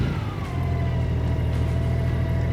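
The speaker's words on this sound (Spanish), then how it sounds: "Encendemos la moto y nos aseguramos de que esté en neutral." A Honda Goldwing 1800 motorcycle engine runs with a steady, low idle rumble and faint whining tones, close and continuous with no talk.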